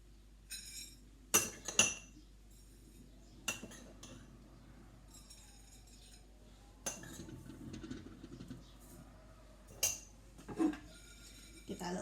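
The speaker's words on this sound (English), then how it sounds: "I'm just going to spoon some of my nuts and some of my seeds onto the plate." Nuts and seeds are spooned onto a plate, giving scattered light clinks and taps of a spoon against the dish in small bursts, quiet and close, while a person talks softly at times.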